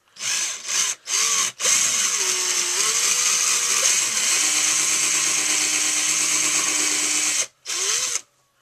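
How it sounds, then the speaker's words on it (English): A power drill whines steadily for several seconds as its bit widens a hole in a bicycle camera mount, pitch shifting slightly as it grinds, with short bursts starting and stopping at either end. "I'm gonna take this drill bit and I'm gonna see if I can make it a little wider"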